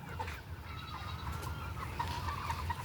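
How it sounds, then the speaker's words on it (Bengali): Several chickens cluck and murmur together over a steady low hum on a poultry farm of about 2,200 hens and 3 roosters, with occasional sharper calls rising from the flock. "আমাদের এখানে কিন্তু 2200 মুরগির মাঝখানে 3টা মুরগ আছে"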